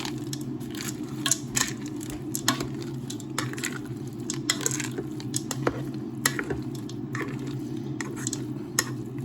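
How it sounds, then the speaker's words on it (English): Spare ribs and savoury rice stirred in a pot, a spoon scraping and squelching through the thick mixture with scattered metallic knocks against the pot over a constant low hum, close up and moderately loud, no one talking. "we'll just give that a stir and I'll show you what it looks like"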